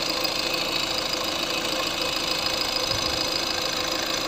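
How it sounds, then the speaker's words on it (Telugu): An engine runs at a steady idle right after a decarbonization treatment, giving a continuous close-up hum with a faint knocking rhythm underneath and no talk. "ఇంజన్ నాయిస్ లో మీకు డిఫరెన్స్ తెలుస్తుందా?"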